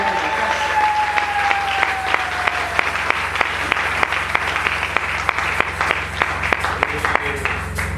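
A church congregation at a Sunday worship service applauds with steady, dense clapping throughout. Individual sharp claps stand out against the crowd.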